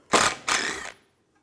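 Two quick ratcheting bursts from a socket wrench with a T30 bit loosening front bumper screws on a 2004-2010 BMW X3, close and crisp, then silence.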